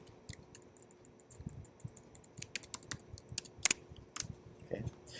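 Typing on a computer keyboard during a programming lesson, a run of close, crisp key clicks in uneven bursts, a few sharper strokes near the middle, no talking.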